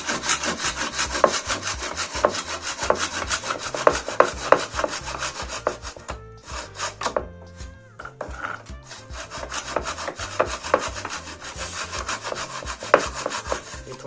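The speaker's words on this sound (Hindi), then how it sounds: "और आरी हब हम इसे बीच में इस तरीके से रख के चलाएंगे" A hand saw cuts through wooden frame beading with a fast, rhythmic rasp of back-and-forth strokes, loud and close, with a short pause partway through before sawing resumes.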